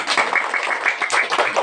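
Dense, steady applause from an audience at the close of a talk to young students, many hands clapping together at close range for the whole stretch with no voices.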